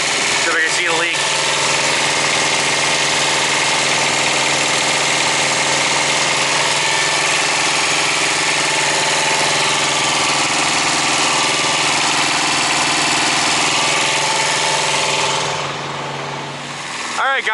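A Thermo King APU engine idles steadily and loudly at close range, a constant mechanical drone with vibration that continues unbroken before fading slightly near the end.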